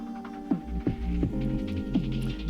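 Diabolo spun fast on its string, a close steady throbbing hum with repeated pulses and pitch swoops roughly every half second.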